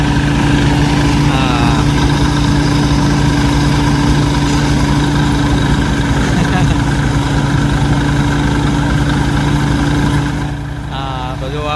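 A tractor engine idles steadily with a constant low drone and hum, running unchanged until it drops off slightly near the end.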